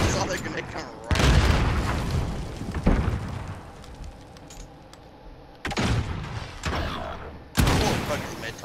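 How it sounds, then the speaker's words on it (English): Grenade explosions and gunfire in the video game Call of Duty: Modern Warfare, several heavy booming blasts and bursts of shots at loud, close range, separated by quieter stretches, with a player talking over them. "I saw that grenade come right."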